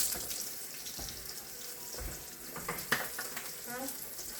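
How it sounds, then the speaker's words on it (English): Water running from a kitchen faucet while something is rinsed off, a soft steady hiss with faint splashes and clinks, fairly quiet and close. "I'll rinse this off real quick"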